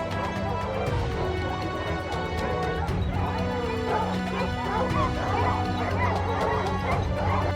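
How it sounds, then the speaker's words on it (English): Hunting dogs bark and yip excitedly in woods while chasing a wild boar, with crashing movement through brush and occasional whimpers; the barking is loud and continuous. "Their fierce barking echoed through the woods, clearly marking the target's location."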